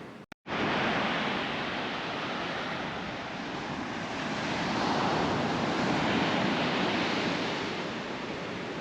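Ocean surf rolls onto a beach in Redwood National Park as a continuous roar with some wind, swelling slightly midway, and no one speaks.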